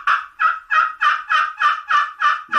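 A two-piece Purple Heart friction turkey call struck repeatedly, giving about nine clean, evenly spaced yelps up close with no talking.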